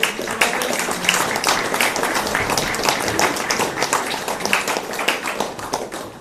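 Audience applause after a live folk music set at a club, a dense, steady clapping from a crowd throughout, loud and close with no other sound on top.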